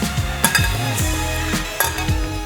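Potatoes tipped into a pan of melted, salted butter for masala roast potatoes set up a steady frying sizzle, with stirring clatter and scraping repeating through it and no talking.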